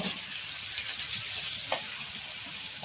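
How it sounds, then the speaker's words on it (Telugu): Bitter gourd and onions fry in a pan with a steady, close sizzle that runs throughout, broken by a couple of brief sharper crackles and no voices. "కిలో కాకరకాయలకు 1/2 కిలో ఉల్లిపాయ ఇట్లా అంతా ఫ్రై చేసుకోవాలి"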